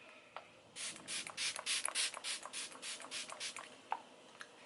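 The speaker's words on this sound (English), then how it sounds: "Picking up that MAC Fix Plus again, we're just going to spritz the whole face down." MAC Fix Plus setting spray misted over a face: a quick series of about ten close, soft hissing spritzes in a rapid rhythm, then a single faint click.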